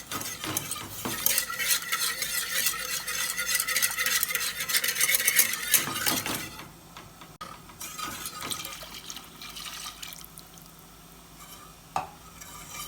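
A milk and flour mixture is stirred quickly in a pan, giving a steady scraping and bubbling sizzle that is loud and continuous at first, then eases to a quieter simmer with a sharp clink near the end; no one speaks.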